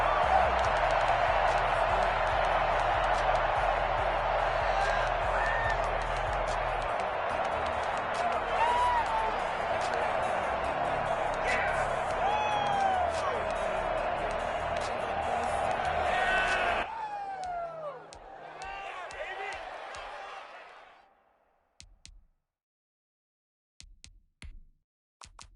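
A stadium crowd roars and cheers before a Washington football team versus Dallas Cowboys game, a dense sustained din with scattered whistles and shouts that drops away abruptly, leaving near silence with a few faint knocks.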